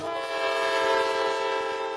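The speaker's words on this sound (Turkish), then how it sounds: "tren geldi" A train horn blares in one long, steady, loud tone, with no pauses and no voices.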